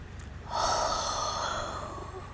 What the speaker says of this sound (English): he would just breathe in and out